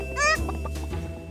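A cartoonish hen clucks and squawks briefly in a toddler farm counting game, a bright rising call followed by a few softer clucks over light background music.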